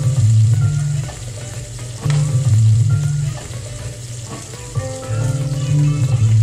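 Food being stirred in a pot of mashed potatoes and baked beans, a steady sizzling, scraping texture that swells and dips in loud repeated strokes, close up with no talking.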